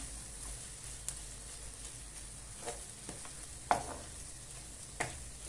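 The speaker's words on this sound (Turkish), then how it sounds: "Şöyle güzelce tuzla salçayla kavrulsun." Pepper and tomato paste sauté with salt in a pan with a quiet, steady sizzle, punctuated by a few soft stirring scrapes and taps, close by and with no voices.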